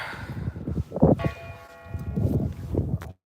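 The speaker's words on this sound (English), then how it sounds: "Got the bell ringing" Church bell ringing at half past four outdoors, a few distant tolls with sustained ringing tones under background footsteps and ambient noise.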